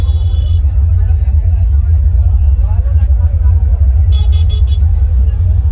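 Loud, constant deep bass throbbing from a powerful DJ sound system at a street procession in Sehore, India, with crowd chatter and occasional car horns in the background.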